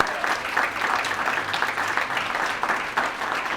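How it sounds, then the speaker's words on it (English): At a 50th anniversary gathering, people give the staff a round of applause: a lively, close crowd clapping with uneven swells and a few sharper bursts, lasting the whole moment. "give them a round of applause"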